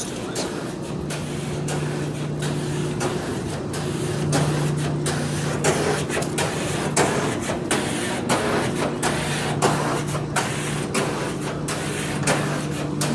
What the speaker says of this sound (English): That dryer sounds horrible.